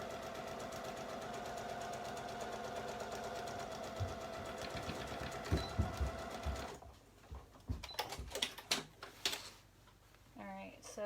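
A sewing machine stitches a waistband casing with a steady, fast mechanical whir. It stops partway through, and intermittent bumps and handling noises follow along with some speech.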